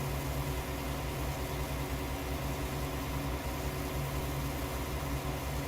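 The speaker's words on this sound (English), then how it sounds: "I'm driving the tractor Fusion" Tractor engine idling in the Farming Simulator video game, a steady low droning hum with even vibration, continuous and unchanging throughout, no voices.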